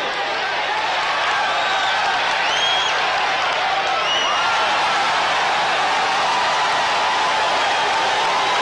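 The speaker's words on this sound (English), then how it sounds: "The crowd likes this exchange." A boxing arena crowd cheers during an exchange in a Marvin Hagler fight against Bobby Watts, a steady roar of noise with scattered whoops and shouts rising above it throughout.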